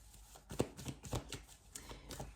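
Tarot cards are shuffled and drawn in a close, quiet room: a few soft riffling and slapping rustles, with one sharper snap, over a faint background.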